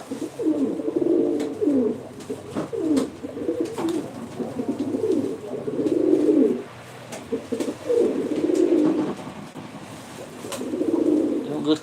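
Pigeons coo nearby at a live pigeon auction in Ankara, in repeated soft, throaty bursts with short pauses between, while other birds chirp faintly in the background.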